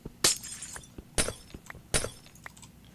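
Glass blocks shattering in a block-building video game, three sharp bright breaks spaced about a second apart with smaller clicks between, close and crisp.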